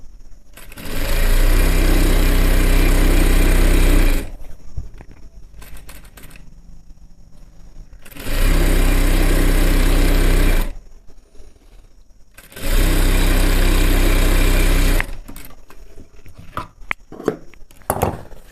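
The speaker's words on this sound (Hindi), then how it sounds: "ठीक इस तरह से हम इसकी साइड की सिलाई लगा लेंगे।" A sewing machine stitches the side seam of skin-tight men's pants in three loud, steady runs of a few seconds each, separated by quiet pauses with faint handling noises.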